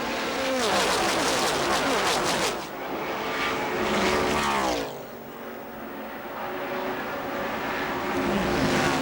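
Stock cars roar past at the 1981 Daytona 500 on a windy day, a loud continuous engine drone swelling and fading as packs of cars pass through traffic, with a sharp dip between passes before the next wave arrives.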